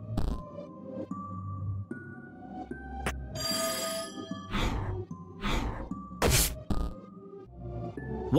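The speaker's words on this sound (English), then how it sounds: "What was that sound like a ringing bell?" A prototype telephone device in a video game rings with bright, repeated metallic bell tones in short bursts, mixed with sighs and game sound effects, and no talking.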